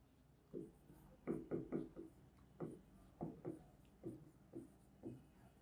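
A pen writes by hand on paper in quiet, close, scratchy strokes, with irregular short bursts of scribbling separated by brief pauses over several seconds, alone and with no talking.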